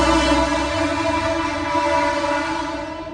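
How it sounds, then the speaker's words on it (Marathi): A loud, steady train rumble heard from a house next to a station, with sustained tonal hum, continuous throughout, close by, no voices. "ट्रेनचा आवाज खूप जास्त आहे"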